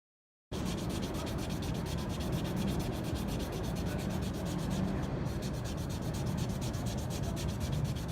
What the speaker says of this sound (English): so I'm going to start sanding it